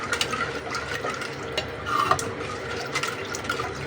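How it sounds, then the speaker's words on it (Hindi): A spoon keeps stirring a sattu drink mixture, making soft, continuous liquid swishing and light clinks close by, with no speech. "मसलसल हम अपने चम्मच को चलाते जाएंगे ताकि इसके अंदर गुठली ना बन जाए।"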